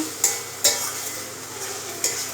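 Goat intestine curry roasting in oil in a kadai, a continuous sizzle broken by three sharp scraping stirs of a spatula, close and fairly loud.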